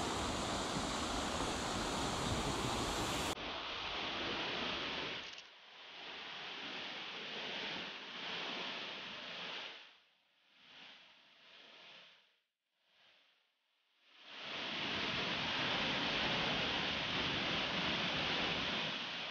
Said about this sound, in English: This is another waterfall that I got to enjoy by myself.